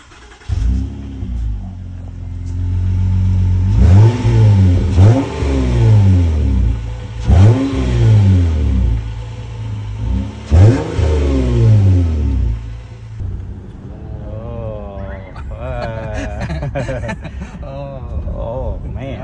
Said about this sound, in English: Once the exhaust was done, it was time to start it up and hear what this exhaust sounds like.